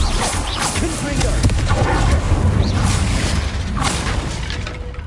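A Confringo explosion spell cast in the Hogwarts Legacy video game: booming, crashing blasts over a dense, loud rumble of game effects, with a couple of sharper hits rising out of the constant noise.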